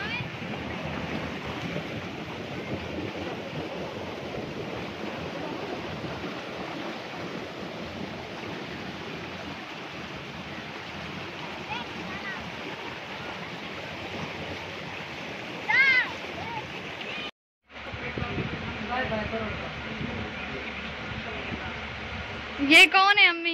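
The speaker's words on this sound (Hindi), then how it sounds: "ये जो पानी है ये खेतों में जाता है" Water rushes steadily along an irrigation channel toward farm fields, a continuous broadband flow that holds through the whole stretch, with voices talking over it.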